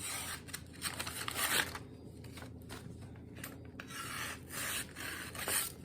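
A freshly sharpened knife slices through a paper envelope, giving several close, raspy scraping strokes, each one brief and papery, with short quiet gaps between them.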